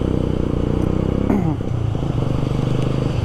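Motorcycle riding ahead on a road at night, its engine a steady close drone with a brief scraping rattle partway through and no talk.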